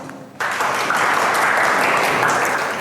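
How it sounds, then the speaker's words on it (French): Applause breaks out suddenly from an audience welcoming a speaker at a student event, a steady, full clapping that holds evenly after a quiet opening moment. "Applaudissons-la."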